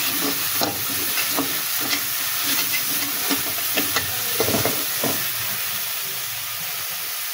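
Taro stolons frying with chili powder in a pan, a loud continuous sizzle and hiss broken by repeated scraping strokes of a spatula as the mix is stirred, close and without talk.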